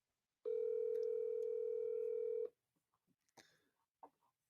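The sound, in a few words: telephone dialing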